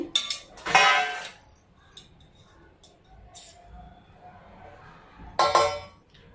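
Large plates being handled and greased with ghee while making homemade mango jelly: clinks and scrapes of metal plates, a sharp clatter near the start and another near the end, with quieter handling in between and no talk.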